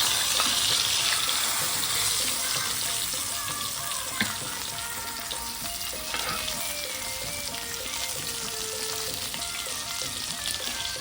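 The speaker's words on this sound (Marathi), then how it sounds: "तर परत ते दुसऱ्या साईडने 3 मिनिटं फ्राय करायचं." Bagda prawns fry in oil in a pan, a steady dense sizzle that holds at an even level throughout, with a brief faint clink of utensil partway through.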